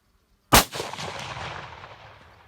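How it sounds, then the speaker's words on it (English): One sharp rifle shot at a fox from 125 metres out in open country, a loud crack followed by a rolling echo that fades over about two seconds. "The moment the fox stood still for a moment, she took the shot from 125 metres."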